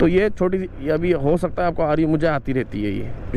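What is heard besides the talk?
None of the usual background noises is heard.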